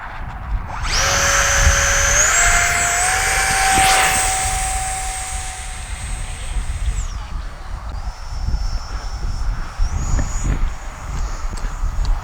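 An Arrows RC Avanti S model plane's electric motor spins up to a loud, steady whine during takeoff, then settles into a high drone that shifts pitch as the plane climbs away, with wind noise throughout.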